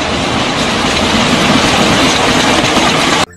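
An orange Rail King toy train rumbles steadily along its track, a loud continuous clattering roar that cuts off abruptly at the end.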